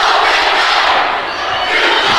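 Loud crowd cheering and shouting in a gym at a high school volleyball match between Lander and Riverton, a dense sustained roar that dips briefly and swells again.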